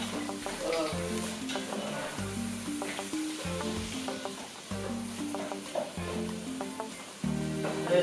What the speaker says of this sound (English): I'll let this fry for another 2 minutes to become a bit saucy